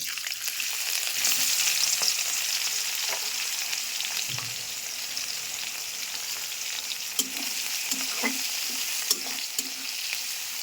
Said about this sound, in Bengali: এবার দিয়ে দেবো পেঁয়াজ কুচি